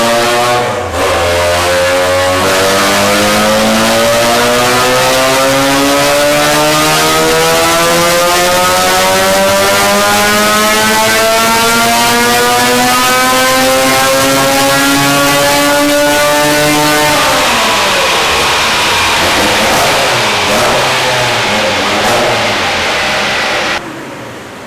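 An individual-throttle-body Mazda RX7 rotary engine on a dyno revs continuously and very loudly, pitch rising steadily to a 9000 RPM scream over about fifteen seconds before dropping back off.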